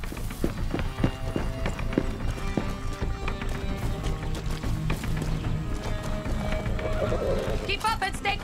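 A horse whinnies loudly over steady clip-clopping hooves in Far Cry 6, with game music and voices mixed in throughout.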